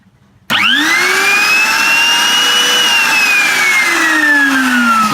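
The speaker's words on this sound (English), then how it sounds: "here I've got a rigged up table router, temporary table router." Homemade temporary table router spinning up from silence with a sharp start, then holding a loud, steady high-pitched whine whose tone slowly sags, close and alone.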